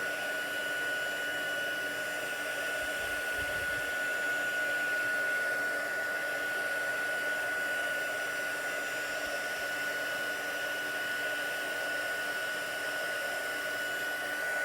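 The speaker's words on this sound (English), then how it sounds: "I'm just going to get my heat embossing tool, warm that up, and I'm going to go ahead and heat this up" A heat embossing tool blows hot air in a steady, close whirring hiss with a thin high whine, continuous and unchanging throughout with no voices.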